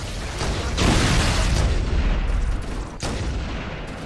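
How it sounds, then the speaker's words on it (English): Gunfire and explosions from the video game Halo CE: heavy booming blasts and crackling shots in a dense, loud barrage, with a sharp cut near the end and no voices. "The gun explosions are emanating from your face!"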